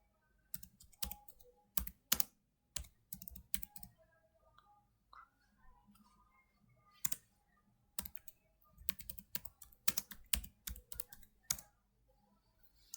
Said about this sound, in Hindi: अब मैं गूगल पे टाइप कर लेती हूँ सोशल बुकमार्किंग साइट्स।